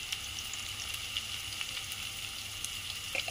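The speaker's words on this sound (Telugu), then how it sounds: "ఒక కప్పు ఉల్లిపాయ వేసిన తర్వాత మంచిగా వేయించి" Chopped onions fry in a pan, giving a steady, soft sizzle and crackle with small pops, fairly quiet and without talk.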